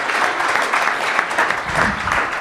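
An audience claps together in a short, dense burst of applause, steady and fairly loud throughout the few seconds, with no one speaking.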